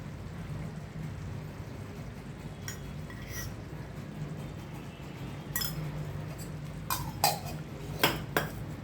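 A spoon stirs drumstick curry in a pot over a quiet low hum, with a few light metallic clinks and scrapes bunching toward the end.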